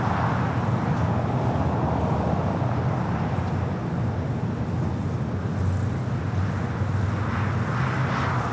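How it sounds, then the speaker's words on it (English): A Volaris Airbus A320neo at LAX roaring steadily as a loud, broad engine rumble that holds even throughout, with no speech. "get a shot at that A320 Neo with Volaris"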